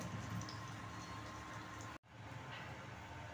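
Pakoras deep-frying in hot oil, a steady close sizzle and bubbling throughout with one brief dropout partway, no talk.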